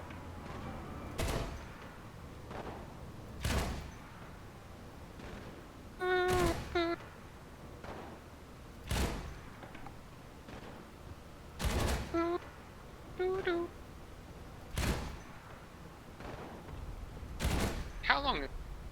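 Scattered bursts of gunfire from the War Thunder video game ring out in sharp, separate cracks and short volleys, fairly quiet overall, with speech in places.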